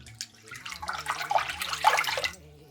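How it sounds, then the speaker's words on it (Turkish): Rice for sushi is washed by hand in plenty of water, with a close, continuous sloshing and splashing that swells in the middle and fades out. "Nişastasını arındırana kadar bol suda yıkayacağım."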